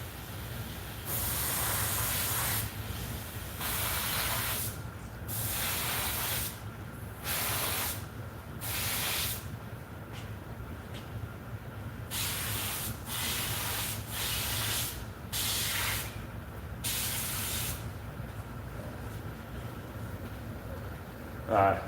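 Makeup sprayed onto a face on a warm day in Texas: a steady run of about a dozen short, close hissing spray bursts in an irregular rhythm over a low background hum.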